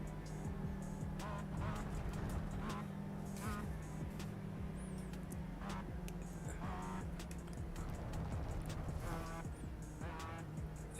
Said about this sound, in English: I've never heard a car sound like this when it's running out of fuel.